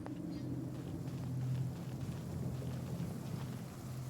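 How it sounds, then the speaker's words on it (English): Steady heavy rain hisses with a low thunder-like rumble in a downpour in the video game Genshin Impact, faint and continuous with no talk. "Quite a downpour."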